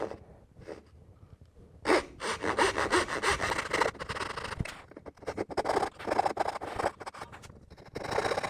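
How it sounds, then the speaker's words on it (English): A hand saw cuts diagonally into wood for a half blind dovetail joint, with rough rasping strokes in irregular bursts, close and moderately loud, separated by short pauses. "I can only cut diagonally and remove as much material as I can with the saw."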